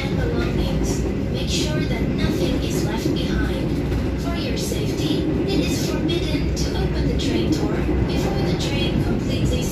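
Inside the Lodaya night train, a steady rumbling ride continues with rhythmic clacking of the wheels over rail joints and a constant low roar, while people talk under the noise.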